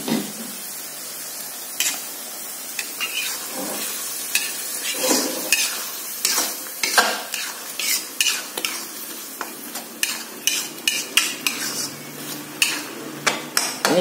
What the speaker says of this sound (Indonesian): Ini kita masak, make sure dia sampai matang ya, udang sama baksonya itu ya